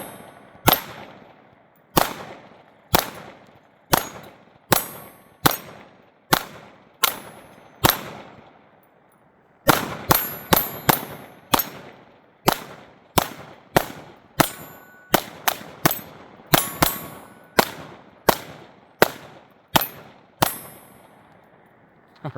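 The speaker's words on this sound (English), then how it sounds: "Let's try a little one-handed shooting here." Smith & Wesson 22 Magnum pistol fired one-handed at steel targets, a long string of sharp cracks each followed by a ringing metallic clang, evenly paced with a brief pause midway then quicker shots.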